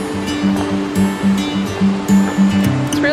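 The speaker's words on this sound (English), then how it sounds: "it was all this water splashing down on the rocks" Creek water splashes down over rocks beside a rail trail leading to Hawks Nest State Park, a loud, close, steady rushing with rhythmic surging pulses throughout.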